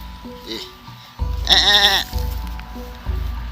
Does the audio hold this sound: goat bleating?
yes